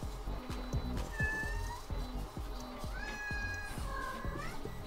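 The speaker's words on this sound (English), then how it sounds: "even the cat loves it." A cat meows several times, drawn-out tonal calls rising and falling over a steady background of low rhythmic clicking and humming machinery, fairly faint overall.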